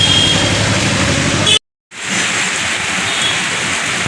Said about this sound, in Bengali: ভালোই হচ্ছে বৃষ্টি বেশ জোর আছে